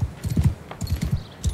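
Horse hooves in the video game Mount & Blade II: Bannerlord clip-clop in a quick, uneven walking rhythm, close and clear, with no talk over them.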